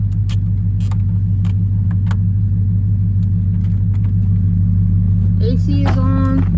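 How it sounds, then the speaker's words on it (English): Truck engine cranked up and running, a steady close low rumble throughout with light clicks and brief tonal squeaks near the end. "So I just cranked the truck up."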